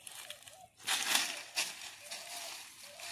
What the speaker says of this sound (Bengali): যা কাদা ছিটাচ্ছে,